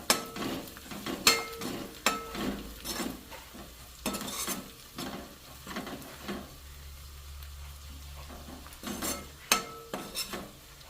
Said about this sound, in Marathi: आता आपण त्यामध्ये हळद टाकून घेऊया आणि छान प्रकारे मिक्स करून घेऊया